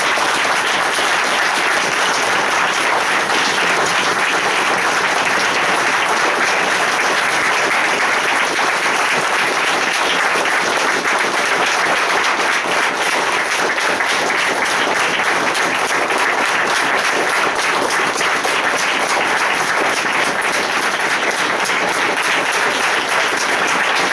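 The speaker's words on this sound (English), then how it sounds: "The length of your applause leads us to believe" Sustained loud applause from a large audience, dense and even clapping that continues without a break for the whole stretch.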